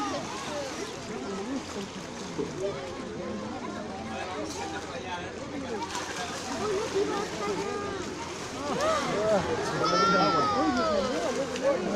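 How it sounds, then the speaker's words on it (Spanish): Sea lions swimming and splashing in a pool during a sea lion show at Parque de las Leyendas in Lima, Peru, with water sloshes under lively crowd chatter, squeals and a presenter's voice. "Ustedes van a observar ahorita cómo es que se impulsan dentro del agua los lobos de mar."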